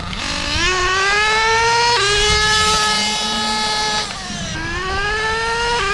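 A Losi LST RC monster truck with a Dynamite .28 nitro engine screams close and loud, rising in pitch, dipping with gear shifts of its two-speed transmission, then winding up again.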